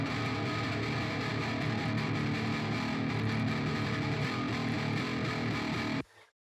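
Heavily distorted guitars with Rough Rider preset effects give a scooped, thick tone alongside bass, playing dense and loud for about six seconds before cutting off abruptly.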